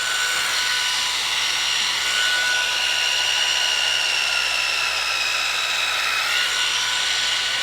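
A small electric motor in a handheld callus vacuum device on its low setting whines steadily with a high-pitched buzzing tone that shifts slightly in pitch, running continuously up close.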